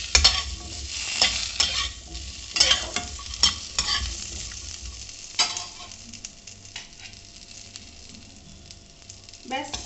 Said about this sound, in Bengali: একটু নাড়িয়ে টাড়িয়ে নিতে হবে একটু কাঁচা গন্ধটা যাওয়ার জন্য